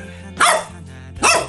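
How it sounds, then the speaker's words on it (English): Two sharp dog barks about a second apart, close and loud over a quiet background hum. "He loves barking."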